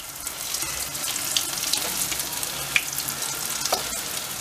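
Egg-dipped bread fries in a pan with a steady close sizzle and occasional crackling pops, no talking.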